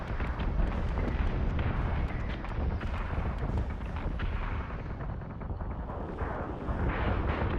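Ship weapons fire continuously in Battlestar Galactica: Deadlock, a dense, loud barrage of booming blasts and crackling explosions blending into a sustained roar with no pauses.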